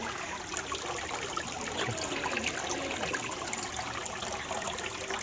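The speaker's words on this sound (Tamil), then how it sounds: "குழாய் தண்ணி வந்து கொப்புளிச்சு கொண்டே இருக்குது" Water gushes and splashes continuously from a tap during a cyclone, a steady rushing flow at moderate level with no talking.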